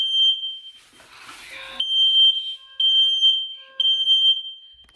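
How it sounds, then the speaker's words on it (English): A dorm smoke alarm beeps in a steady, loud, high-pitched tone, with short gaps between pulses and a burst of rustling noise partway through. "this alarm has gone off like 4 times in the past 2 weeks."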